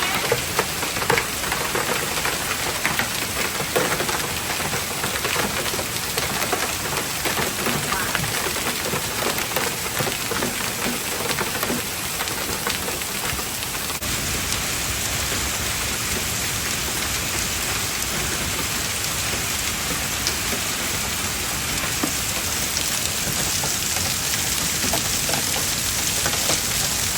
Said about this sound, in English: It's raining a lot now, so the golf ball sizes went down to pea size